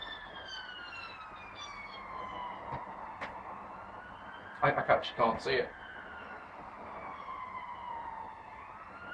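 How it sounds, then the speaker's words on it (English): An ambulance siren wails steadily and at a distance throughout, its tone sweeping slowly up and down, while someone talks over it partway through. "It's an ambulance."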